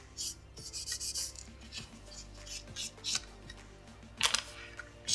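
Gel-polished nails are buffed with a nail buffer, giving short scratchy rubbing strokes in irregular bursts, close and fairly quiet, with no talking.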